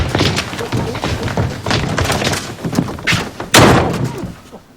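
A wooden door slammed hard during a stage play rehearsal, a loud sudden thump near the end standing out over a busy room, with earlier softer thuds and knocks.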